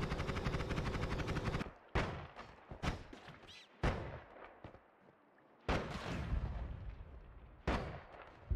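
Spark Bolt spell fired rapidly in a video game, a burst of dense crackling shots. Sharp blasts and thuds follow with brief pauses between them, then another long rapid volley, all without talking.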